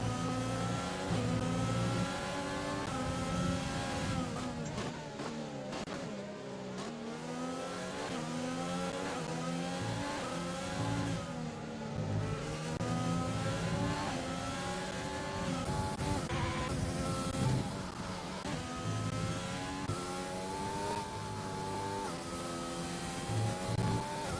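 Formula 1 cars in a racing video game scream down the straight at Spa, the whine of high-revving engines rising and falling continuously and loudly for the whole stretch.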